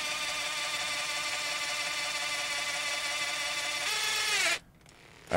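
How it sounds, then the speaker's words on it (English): A power drill bores through an epoxy layer, a steady high whirring drone close and loud for about four seconds, its pitch dropping before it cuts out abruptly and briefly restarts. "So we're drilling through the epoxy layer."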